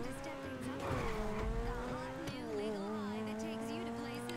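In GTA 5, a Turismo R or Zentorno supercar brakes hard into a turn on a racetrack, its engine whining steadily while tires squeal and skid, with a voice commentating over it.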